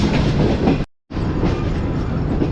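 Tezgam train approaching the main platform at Rawalpindi railway station, loud rolling wheel rumble and clatter from on board, broken by a brief gap of silence before resuming.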